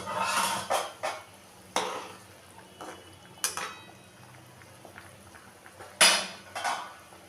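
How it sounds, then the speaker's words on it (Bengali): A metal lid clanks onto a pot of hilsa fish curry with aubergine, followed by scattered sharp clinks and knocks of cookware, close and fairly loud, with quieter pauses between. "একটু ঢাকা দিয়ে দিলাম"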